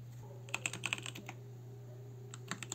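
Quiet bursts of computer keyboard typing, a few quick clustered keystrokes, then a pause before a final couple of presses such as Enter, over a low steady electrical hum.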